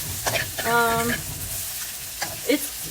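Okra (bhindi ki bhaji) sizzling and frying in a pan at home, stirred with a few scraping strokes over a steady hiss, with a brief tonal hum early on.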